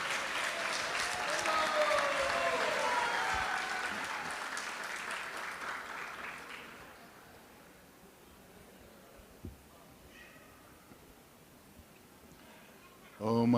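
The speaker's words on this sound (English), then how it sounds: "So with a huge, huge round of applause" Loud applause from a crowd fills the first half, then fades away into quiet room noise, with a brief burst of sound at the very end.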